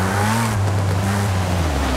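Engine drone of a Lotus sports car entering a corner in Forza Horizon 5, a steady loud hum with slowly rising tones and some tire noise, heard alone.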